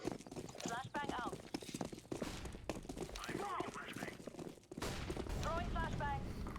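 Gunfire bursts and a grenade-like bang in a Source engine tactical shooter, sharp rapid shots scattered through the scene under overlapping player voice chat.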